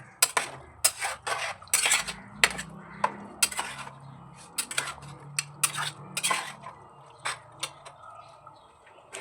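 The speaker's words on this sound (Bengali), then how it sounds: "দিয়ে এবার ভালো করে নেড়ে চেড়ে নিচ্ছি।" A utensil scrapes and clinks against a pan while chole is stirred with tea liquor, giving irregular sharp metallic taps and scrapes over a low background hum, close and moderately loud.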